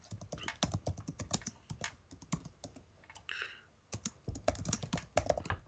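Rapid close clatter of computer keyboard typing while renaming a trading scanner in thinkorswim, with a brief pause and a single spoken remark in the middle.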